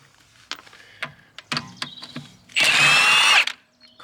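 A Milwaukee impact wrench fitted with a black impact socket, working on BMW V8 suspension, fires a loud sustained rattling burst of nearly a second near the end, after several short sharp clanks and taps of tools and parts.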